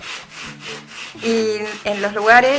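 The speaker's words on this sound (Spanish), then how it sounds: "Voy a empezar a hacer el raspado de la madera" Painted wood is sanded by hand with medium-grit 80 sandpaper in repeated rhythmic rasping strokes, loud and close, while a person talks over the scraping.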